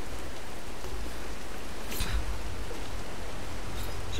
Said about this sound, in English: Well, I guess it's kind of rainy, actually.